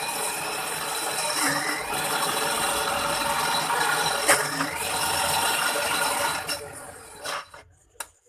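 A mixer grinder grinding idli and dosa batter runs with a loud, steady grinding whir for about seven seconds, then stops with a couple of sharp clicks.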